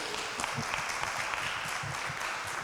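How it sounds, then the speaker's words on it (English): A crowd at a public town hall meeting applauds steadily throughout, a dense wash of many hands clapping at moderate distance with no speech on top. "If we can give him a little round of applause for being here."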